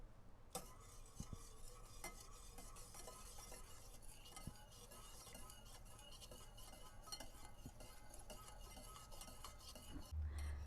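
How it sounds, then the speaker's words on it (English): Panna cotta ingredients being whisked together in a bowl, a quiet continuous rapid swishing with faint metallic clicks of the whisk against the bowl throughout. "then we're going to whisk it all together"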